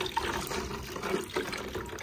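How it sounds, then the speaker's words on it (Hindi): Water pours steadily into Gulbahar sharbat being mixed in a glass, a continuous close splashing trickle that runs without pause through the clip. "शरबत गुल बहार, और पानी भी डाला जा रहा है"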